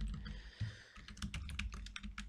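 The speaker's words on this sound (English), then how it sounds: "my keyboard is acting funny today" Computer keyboard typing, close and steady, with rapid clicking keystrokes in uneven bursts and no voices.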